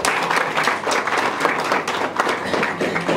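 A studio audience on a talk show gives loud, steady applause, many hands clapping together close by for a few seconds without a break.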